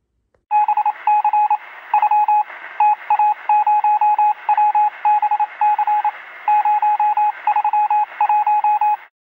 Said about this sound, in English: Sounds like a Morse code.